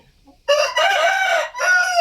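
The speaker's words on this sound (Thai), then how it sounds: "ไก่สวยมาก" A fighting cock crows loudly and close by in one drawn-out call with a short break before its final stretch.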